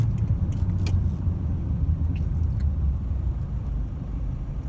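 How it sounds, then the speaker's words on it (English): A car engine with injector rattle idles, a steady low rumble and faint clatter running continuously at close range, with a few brief metallic ticks early on. "from changing the injectors is probably going to reduce the actual rattle there"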